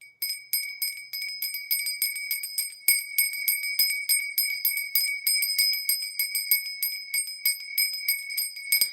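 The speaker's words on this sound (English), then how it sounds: "this used to be my ritual bell" A small handheld ritual altar bell, once used for summoning ancestral spirits, rings in a fast, steady, continuous jingle for several seconds, bright and close with no talking.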